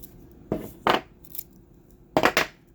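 Tin foil peeled off a 3D-printed SCX24 crawler truck link after heat shaping: two short crinkly rustles, a faint tick, then a louder double crackle near the end, close up with no voices.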